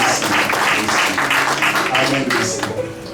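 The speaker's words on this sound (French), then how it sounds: "nous allons acclamer très très fort" A church congregation at a baptism service breaks into loud, sustained applause, many hands clapping together in a dense, close roar that eases slightly toward the end, with some voices mixed in.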